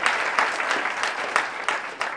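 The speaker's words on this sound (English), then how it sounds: "Let's give the judges a round of applause." Steady applause from a crowd at a tech demo day, dense clapping with a few louder swells, continuous throughout.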